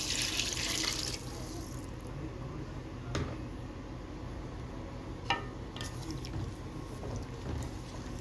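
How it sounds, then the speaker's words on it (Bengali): Hot water pours into a pot of fish curry with aubergine and potato: a loud rushing splash for about a second, then quieter sloshing and a few soft knocks. "দিয়ে দিচ্ছি গরম পানি।"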